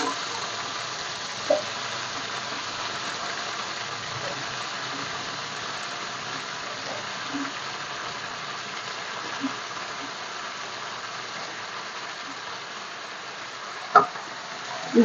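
Vegetables frying in a pan for avarekalu saaru, a steady low sizzle running throughout with a couple of brief clinks of a utensil, no talking.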